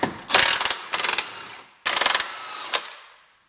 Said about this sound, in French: La phase suivante, c'est la dépose de nos triangles de suspension, clé à choc, douille de 21.